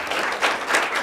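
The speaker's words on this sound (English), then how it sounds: "you can clap in advance" Audience applause from listeners at a talk on mental health services: a short burst of steady clapping that swells briefly midway, fairly close and alone.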